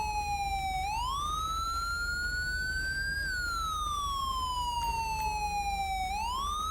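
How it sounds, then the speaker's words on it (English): A video game police car siren wails continuously, its pitch sweeping slowly up and down in long cycles, loud and close over a low engine hum. "Let me turn this annoying siren off."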